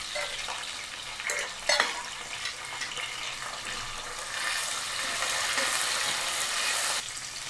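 Tomatoes, curry leaves and green chillies sizzle in a pan for a South Indian gravy, a loud steady frying hiss with brief stirring scrapes and bursts as they are added.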